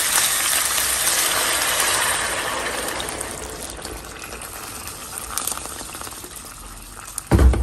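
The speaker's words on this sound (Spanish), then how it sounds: "lo voy a dejar que hierva" Water with chiles, jitomates, onion, oregano and cumin coming to a boil in a pot, a steady broadband rushing bubble that fades slightly after a few seconds, close and alone, ending with a brief clatter.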